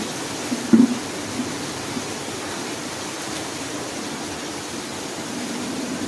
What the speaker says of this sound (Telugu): అస్సలు ఎలా బీవచ్చంగా పడుతుంది వర్షం